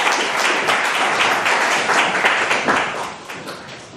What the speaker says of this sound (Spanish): Hay que recibirlo con fuertes aplausos a nuestro ponente que está acá también presente.